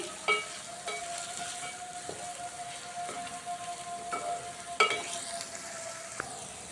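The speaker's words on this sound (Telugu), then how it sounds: "కొంచెంసేపు వేగనిద్దామండి" Bitter gourd pieces fry steadily in a pan, giving a continuous soft sizzle with occasional faint clinks and stirring, heard alone without voices.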